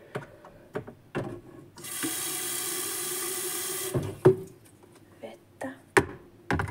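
Tap water runs into an electric kettle for about two seconds as a steady hiss, between soft clicks and handling sounds close to the microphone.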